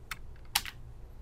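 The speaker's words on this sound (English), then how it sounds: "the keyboard shortcut also works" Computer keyboard keys pressed for a copy-and-paste shortcut on a Windows application, a few quick close clicks with one sharper keystroke, near and fairly quiet, no talk.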